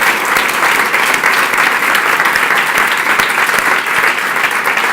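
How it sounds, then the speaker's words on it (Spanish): A church congregation claps loudly and steadily in a dense, continuous wash of applause that holds at full volume throughout, with no voices standing out. "Le das un aplauso fuerte."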